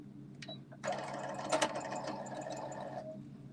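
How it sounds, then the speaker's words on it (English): A sewing machine runs a short burst of stitching in a library makerspace, a steady close mechanical whir lasting about two seconds after a few faint clicks. "sewing machines have their own mind"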